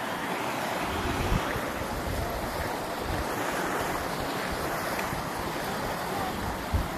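A mountain waterfall pours in a constant broad rushing roar, loud and even throughout with no voices, the wash occasionally buffeted by slight wind.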